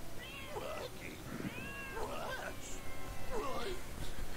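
Cartoon cats in Scooby-Doo on Zombie Island let out several meows and caterwauls in short bursts, some rising and wavering, with speech and background noise around them.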